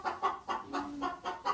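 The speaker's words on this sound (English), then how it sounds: "Oh, there's a chicken in there." Chicken clucking from a hen on a farm on a frigid winter day, a run of short rhythmic clucks at close range, with no talking.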